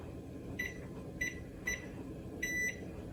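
An oven control panel beeps as the temperature is reset to 375 and a timer is set while baking sourdough bread: four short, clear electronic beeps at uneven intervals, the last one held longer, over a steady low kitchen hum.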